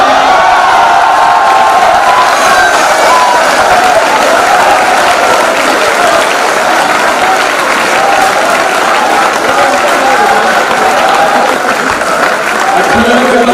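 Loud, dense applause fills a poetry recital hall, a sustained wash of clapping from a large audience that carries on without pause, with scattered voices and faint cheers mixed in.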